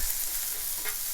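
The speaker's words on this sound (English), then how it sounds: "we are gonna start off by adding these onions, guys, and getting these onions nice and caramelized." Onions frying and caramelizing in a pan for a Philly cheesesteak make a dense, continuous, close hiss, steady and even with no other sound.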